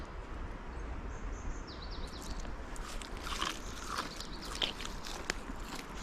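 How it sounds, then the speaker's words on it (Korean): Crunchy bites and chewing of a freshly cut stem from a wild plant with a flower stalk, eaten outdoors on a mountain walk in the rain, a few crisp crunches near the mic over a steady rainy outdoor background. "요거 하나 잘라서 먹어볼게요"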